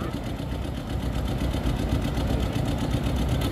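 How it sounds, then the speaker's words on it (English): A 1950 John Deere R two-cylinder diesel tractor engine at a farm stock tractor pull at a county fair rumbles steadily in a low, dense drone that stays loud and continuous throughout. "about a 1950 John Deere R diesel"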